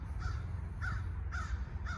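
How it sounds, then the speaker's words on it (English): Crows caw four times at a steady pace, moderately near, over a low rumbling background in the Mojave Desert. "Crows, you're being loud."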